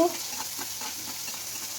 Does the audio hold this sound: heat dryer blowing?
no